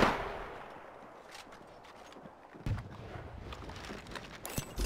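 Gunshots in Apex Legends crack out as scattered sharp bursts, a few loud reports standing out against quieter background game noise, with a heavier burst near the middle.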